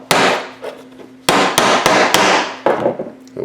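Hammer blows drive pins through a home-made knife handle fixed to the blade, about six sharp, loud strikes in an uneven rhythm, each ringing briefly, with no talking.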